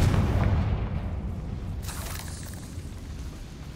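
A Confringo blasting spell detonates in Hogwarts Legacy, a heavy low boom that hits at once and rumbles away over several seconds, fading gradually.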